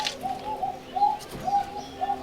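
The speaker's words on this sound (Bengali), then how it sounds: "এই পেয়ারটা রাজশাহী লোকাল গিরিবাজ কবুতর" A pair of Rajshahi local Giribaj pigeons coo in steady, evenly spaced calls, close and fairly clear, with a little chirping between them.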